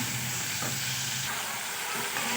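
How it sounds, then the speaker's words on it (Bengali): Spice paste fries in hot oil for a Bengali bhat bhaja dish, giving a steady, close, broadband sizzle with faint stirring scrapes through the short stretch and no voices. "দিয়ে আমি তেলের সঙ্গে খুব ভালো করে মশলাটাকে ভাজা ভাজা করে নেব।"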